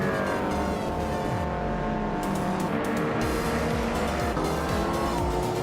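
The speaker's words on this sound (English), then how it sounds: "driving a 2010 Opel Corsa S2000, which is holding a solid 5th place" Racing-game engine of a 2010 Opel Corsa S2000 rally car, loud and continuous with steady revving, shifting pitch and tire squeal throughout, with no voices.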